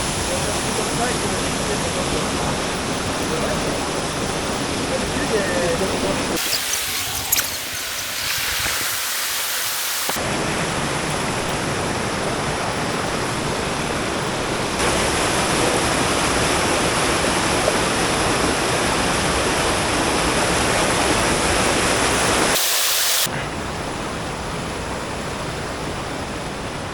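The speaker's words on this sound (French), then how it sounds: "Mais là-bas, il y a une petite cascade." A small waterfall sends up a steady, broadband rush of falling water, loud and continuous, with brief dips where the sound is muffled.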